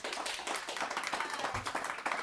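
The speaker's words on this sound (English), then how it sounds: "No clapping, please." Audience applause at a city council special meeting in Eureka, a dense, steady wash of many hands clapping throughout, moderately loud and close, with no pause.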